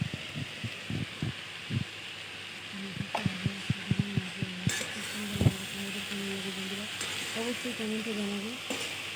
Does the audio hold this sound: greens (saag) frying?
yes